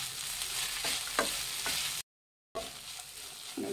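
Lemon avalakki (flattened rice) being mixed in a pan after salt is added, sizzling under a few quick spatula scrapes, broken by a short silent gap before the stirring resumes.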